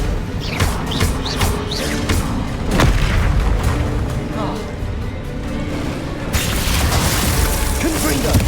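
Bombarda spell blasts in Hogwarts Legacy combat: repeated booming impacts and crackling debris over a dense, noisy battle din, with a sharp loud hit near the middle, while incantations are spoken over the fighting.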